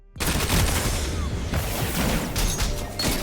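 Dense, rapid gunfire from the video game Destiny 2 during a Trials of Osiris match on the Midtown map, loud and continuous with overlapping shots and impacts throughout.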